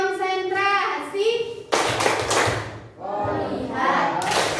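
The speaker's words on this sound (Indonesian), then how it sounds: "Tepuk konsentrasi." A classroom group of children doing an Indonesian concentration clap routine: bursts of loud, close patterned clapping and thumps alternating with children chanting in unison.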